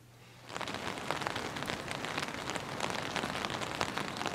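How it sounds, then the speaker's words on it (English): Rain starts abruptly after a half-second of quiet and then falls steadily outside near a rose bush, dense pattering drops hitting surfaces with an even, hissing texture. "the rain is coming down"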